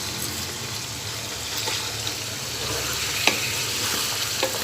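Whole spices, cinnamon, black cardamom, peppercorns, cloves and cumin, crackle and sizzle in hot oil for chicken pulao, a dense continuous frying hiss with a couple of faint clicks, close and steady.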